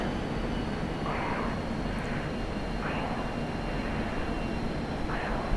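Steady broad roar of a MiG-29A Fulcrum jet engine throttled back during a ground-attack run in the DCS flight sim, constant and dense with faint whooshing swells drifting through.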